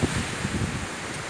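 A gust of Hurricane Irma wind buffets the microphone as a short, loud, roaring rush of broadband noise with low-end thumping, heard alone.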